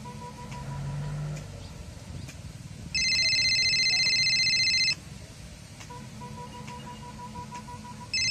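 A telephone rings in one steady burst of about two seconds, loud and close, with faint voices and background noise around it.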